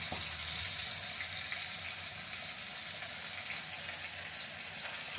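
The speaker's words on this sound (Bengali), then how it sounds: "আলুগুলো তো ভাজা ভাজা হচ্ছে" Potatoes fry in a pan with salt, sugar, turmeric, chilli, coriander powder and black pepper, making a continuous, even hissing sizzle at moderate loudness with no talking.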